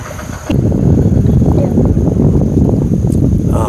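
Small wooden country boat moving on water near Ayyappankovil, a steady broadband wash of water and wind rushing close to the microphone after a brief quieter start.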